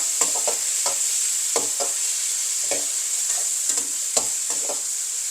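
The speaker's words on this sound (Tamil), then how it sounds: "இதையும் சேர்த்து நல்லா வதங்க விடுவேன்" Prawns are sautéed in a pan for a brinjal curry, with a steady high sizzle punctuated by repeated scraping strokes of a spoon against the pan, close and moderately loud, no talking.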